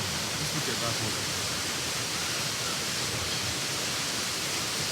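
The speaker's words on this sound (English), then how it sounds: "hii waterfall inaitwa Gul Salari waterfall" Steady broadband rush of Gul Salari waterfall in Eldama Ravine, Baringo County, a continuous close roar of falling water filling the whole stretch with no break.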